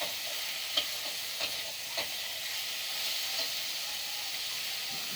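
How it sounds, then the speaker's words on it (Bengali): Kabuli chickpeas frying in a pan of cooked-down spice masala for ghugni, a soft continuous sizzle broken by three or four scraping stirs, fairly quiet and without talk. "এবার কাবলি ছোলাগুলো দিয়ে দিচ্ছি, এটাকে চালিয়ে তারপরে আলু দিচ্ছি।"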